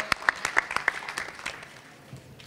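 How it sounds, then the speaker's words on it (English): Audience applause at an anime convention panel, a short burst of many hands clapping close and loud, then tapering off. "let's give these guys a round of applause"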